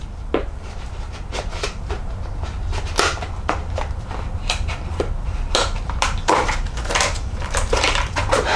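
Michelin mountain bike tire packaging is torn and crumpled open up close, producing a run of loud crinkling, crackling and ripping bursts throughout.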